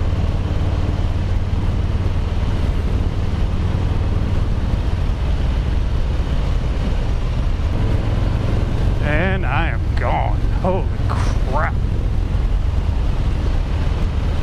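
A 2020 Harley-Davidson Low Rider S motorcycle rides at speed, its engine drone blended with heavy wind rush across the microphone, with a short stretch of talk near the end.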